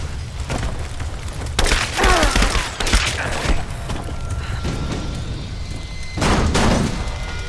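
Gunfire erupts in Rise of the Tomb Raider inside a mine, with loud bursts of shots and booms arriving in clusters, a heavy volley near the middle and another close to the end, over a constant rumbling background.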